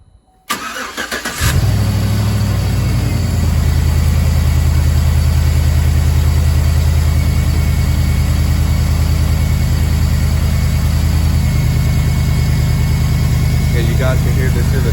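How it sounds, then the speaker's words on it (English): A 2010 Chevy Avalanche LT engine cranks and catches, then settles into a loud, steady idle heard up close, its low rumble constant for the rest of the stretch. "you guys can hear this is a good running engine"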